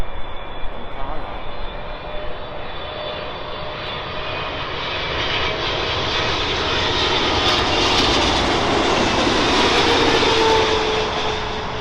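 Boeing 777-300 airliner arriving from Cairo at London Heathrow, its engine roar swelling steadily and growing louder toward the end of the pass, a broad continuous rumble with a whining high tone.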